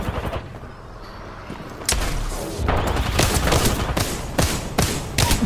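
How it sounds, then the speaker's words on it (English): Shotgun blasts ring out in a frantic Apex Legends match, a series of sharp, loud cracks spaced irregularly over heavy low rumble and ongoing gunfire. "Shoot your shotgun, bro."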